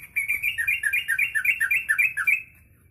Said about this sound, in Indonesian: kita akan memberi makan burung terucukan